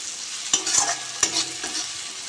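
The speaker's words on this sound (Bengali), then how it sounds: "ভালো করে কষে নিয়েছি, তেল ছেড়ে গেছে।" Spice paste for a lote fish curry is stirred and sautéed in oil in a pan, giving a steady close sizzle broken by a few sharp scraping strokes of the spoon.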